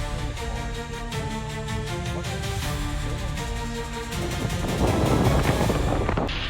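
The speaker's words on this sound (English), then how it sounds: "Waves crash over several parked cars." Storm waves surge and crash over several submerged parked cars in a flooded town, a continuous loud roar of churning water and wind that grows heavier and rougher midway through.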